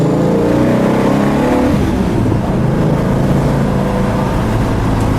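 A loud, powerful 440 V8 engine in a 1969 Dodge Charger R/T with a 4-speed revs hard and climbs in pitch, then drops and rises again as it shifts up through the gears.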